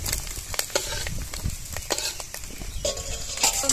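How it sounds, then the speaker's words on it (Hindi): Fish roe frying in a pan, with a continuous close sizzle and crackle and frequent sharp spatula scrapes and taps against the pan, no voices. "मछली का अंडा फ्राई हो गया है चलिए निकाल लेते हैं।"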